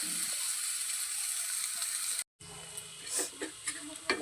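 Washed flattened rice (poha) with curry leaves frying in a pan: a steady close hiss and sizzle that cuts out briefly, then returns with scattered stirring clatters.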